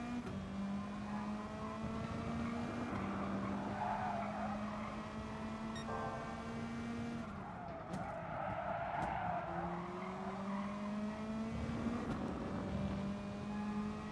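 Race car tires skidding and squealing under late braking in the racing game GT Sport, with loud sustained screeches over a droning engine that shifts pitch through several repeated braking and acceleration phases.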